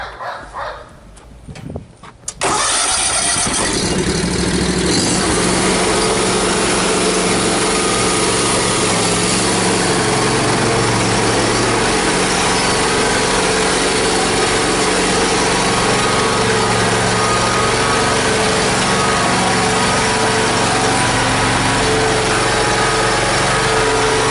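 A lawn mower runs steadily while cutting grass and mulching leaves, a loud continuous engine whine and rumble that starts abruptly after a brief quieter moment at the opening, with a dog barking faintly at times.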